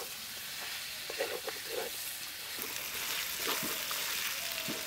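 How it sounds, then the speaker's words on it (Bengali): Green chillies and tomato fry with chicken, turmeric and spices in a pan, making a continuous close sizzle broken by a few scraping stirs. "সব কিছু আর একটু ভাজা ভাজা করে নেব।"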